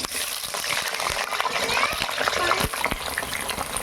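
Cut potatoes dropping into hot oil in a wok, a bright crackling sizzle that swells and bursts in irregular spurts, fairly close, under occasional quiet speech.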